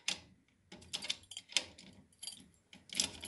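A key is turned back inside a door lock cylinder while the cylinder is being changed, making a series of small metallic clicks and jangles in irregular bursts, close and quiet with no talking.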